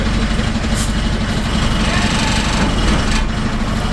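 A recovery truck's engine runs steadily with the PTO engaged, a loud, continuous low rumble throughout, with people talking faintly over it.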